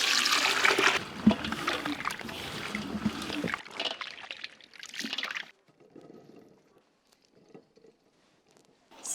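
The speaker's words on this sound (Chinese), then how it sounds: "倒凉水。" Cold water pours and splashes into a basin of freshly picked grapes being washed with salt and flour, a loud gushing rush that cuts off midway into faint trickles and drips.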